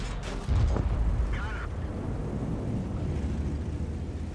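A tank cannon fires in a tank video game, a sharp loud boom that decays into a sustained low rumble of engine and battle noise, with a brief voice fragment over it.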